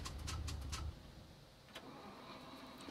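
A car engine in a video game cranks and catches with a low rumbling burst that settles into a quieter idle, faint and close, with no talk.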